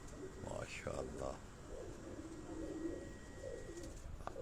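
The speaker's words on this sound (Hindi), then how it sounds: "ये एक और कबूतर दोस्तों" Pigeons kept by a breeder coo softly in a low murmuring run beneath faint background noise, with a brief chirpy sound near the start.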